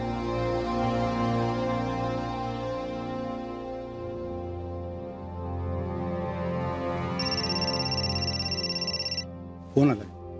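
A mobile phone ringtone plays indoors, a sustained melodic ring under background conversation, ending abruptly, followed by a brief voice.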